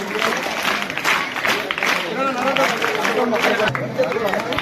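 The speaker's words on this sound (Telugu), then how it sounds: "Yes, start claps." An audience at a school free-items distribution event claps on cue in a dense, steady wash of hand claps and crowd noise, with voices mixed in throughout.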